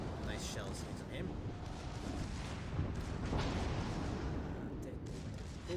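Naval gunfire from the Nassau in World of Warships Legends: a continuous bed of heavy booming salvos and rumbling blasts, fairly quiet overall, with a few sharper reports rising through the din.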